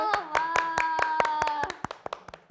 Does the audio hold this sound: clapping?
yes